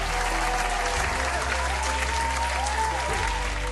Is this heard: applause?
yes